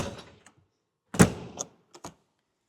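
The entry steps of a 2026 Heartland Prowler 1802MBS travel trailer fold up into the door with a sharp clatter, then a few lighter knocks and clicks, each separated by silence.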